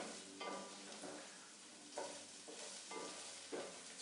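Rosemary and thyme toast in a pan with a soft, steady sizzle, broken by a few quiet rhythmic stirring scrapes about every second and a half.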